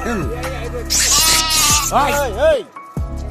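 Goats bleat loudly and repeatedly at a temple shrine crowded with monkeys, several wavering calls overlapping close by.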